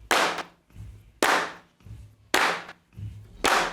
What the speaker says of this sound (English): So there's the bleed from the kick in the claps.